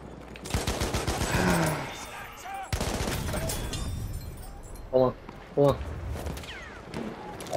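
Gunfire crackles through a Battlefield trench fight on the Suez map: rapid, near bursts and overlapping shots of varying loudness, with voices talking over the battle.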